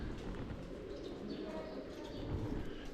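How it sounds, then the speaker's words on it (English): Pigeons coo softly around Buddhist stupas in Nepal in the early morning, faint and somewhat distant within a dense, noisy outdoor ambience, with voices murmuring nearby. "There's that early morning ambience of Nepal around the stupas with the bells and the pigeons"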